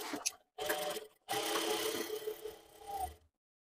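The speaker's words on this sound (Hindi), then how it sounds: "और इसी निशान के ऊपर हम यहाँ पे सिलाई लगाएंगे एंकर के धागे की।" A sewing machine runs in three bursts, stitching anchor embroidery thread onto a kurti neckline, a steady mechanical whir with short pauses between runs, heard close and alone with no talk.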